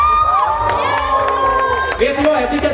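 A crowd at a Pride concert cheers, whoops and claps loudly and continuously, with shouting voices rising above the roar.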